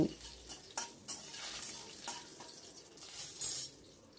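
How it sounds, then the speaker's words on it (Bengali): Garlic cloves are stirred and fried in oil in a cooking pot, with several clattering spatula scrapes against the metal over a faint sizzle, heard up close. "এটাকেও আমি নাড়াচাড়া করে একটু ফ্রাই করে নিচ্ছি।"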